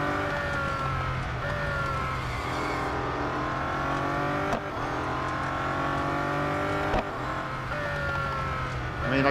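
Race cars in the Real Racing 3 mobile racing game, a continuous loud engine drone with shifting revs and brief gear-change dips, several cars close together, with a voice speaking over it.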